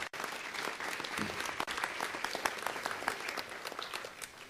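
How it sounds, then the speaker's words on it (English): A city council meeting audience breaks into steady applause, many hands clapping in a dense, continuous patter for several seconds, somewhat distant and moderately quiet in the chamber. "Give her a round of applause."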